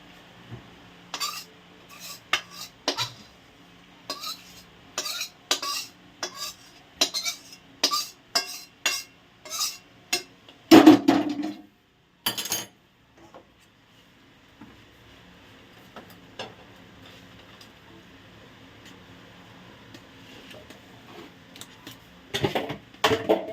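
Coconut sukhdi is moved into a metal plate with utensils, giving sparse metallic clinks and light taps spaced irregularly, a brief louder scrape in the middle, then a long quiet stretch before a final burst of clatter.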